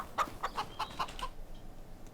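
Chickens in Farming Simulator 25 give a quick run of about six close, sharp clucks over a second or so, then fall quiet against faint ambience.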